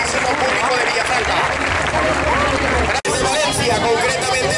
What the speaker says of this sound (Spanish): Recoge el aplauso y la admiración por parte del excelentísimo público de Villafranca.